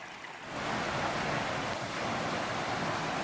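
Low-running Wilson Creek in Pisgah National Forest, North Carolina, spilling over a bed of rocks: a steady, close broadband rush of water that swells after a brief quieter start and then holds level, with no voices.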